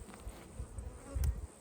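Honey bees buzz on a brood frame of a hive, a low droning hum close by, fairly faint and uneven with a brief swell near the end.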